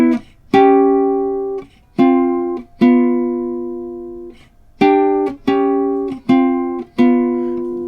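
Eight plucked jazz guitar chords on the middle two strings, roots dropped, ring out one at a time with pauses between, each decaying, in a slow I-VI-II-V turnaround progression with no voices.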